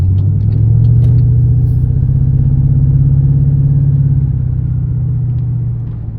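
A Pontiac G8 GT drives on the road, its engine a loud, steady low rumble heard from inside the car throughout, easing off slightly near the end.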